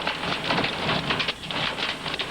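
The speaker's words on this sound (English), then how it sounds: "it was getting a little bit harder to see because of the rain and the hail" Heavy rain mixed with hail during a tornado storm, a dense, steady hiss and clatter with sharp ticks throughout, loud and close, with no voices.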